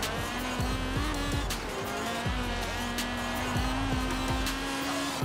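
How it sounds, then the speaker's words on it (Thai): A budget-tuned car in Forza Horizon 4 accelerates hard through its gears, the engine droning loud and continuous with repeated rising sweeps as each shift drops the revs, tire noise underneath. "โอ้โหออกตัวไม่ออกเลยครับ เกียร์1นี่เกียร์3เพิ่งได้80"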